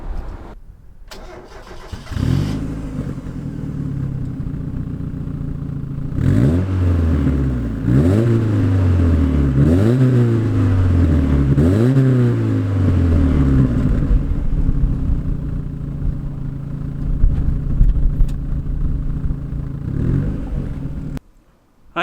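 A 1997 Mitsuoka Zero-1 fitted with an aftermarket sports muffler starts up and idles, then gets several quick revs in a row before settling back to a steady idle, loud and close with no talking.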